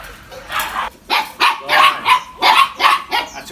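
Phu Quoc dogs bark close by in quick, high-pitched yips, about eight short barks in a few seconds, loud and clear.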